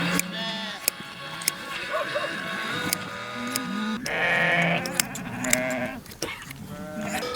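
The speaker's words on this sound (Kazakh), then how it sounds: "мынау қойлардың жүнін алып, ағайын туған бәріміз жиылып келіп отырмыз міне" Sheep bleating repeatedly during a wool-shearing gathering at a mountain homestead, loud wavering bleats from several animals overlapping close by, with faint voices and clatter in the background.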